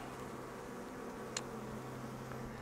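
Honeybees droning steadily at an opened hive with immature comb, a close, continuous hum with a faint higher buzz passing briefly, no voices.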